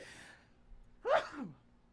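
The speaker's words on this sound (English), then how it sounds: "I sneezed." A single sharp sneeze bursts out near the mic after a brief quiet breath, fading quickly into silence.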